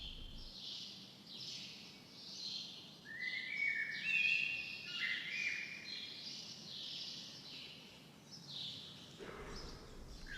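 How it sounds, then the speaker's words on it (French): Hundreds of birds chirp and twitter inside large greenhouses, a dense chorus of short high calls at moderate distance, rising and falling without any talk. "Des centaines d'oiseaux animent les grandes serres"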